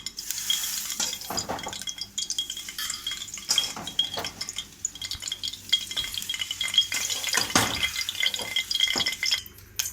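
Whole spices (cinnamon, cloves and cumin) sizzle in hot oil inside a pressure cooker while tempering for a mixed vegetable kurma, with steady frying crackle, a spoon stirring and occasional metallic clinks from the pan.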